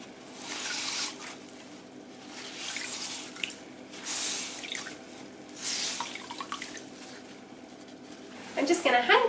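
Fabric freshly dyed a natural apricot-orange is dipped and rinsed in cold water, with splashing in bursts and a steady running trickle, then a clatter of drips near the end.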